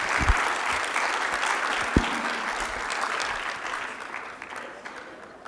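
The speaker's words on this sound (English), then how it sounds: "please a big round of applause" An audience claps warmly at the close of a conversation event about royal Udaipur court paintings, sustained dense applause from a full room that tapers slightly toward the end, with no one talking over it.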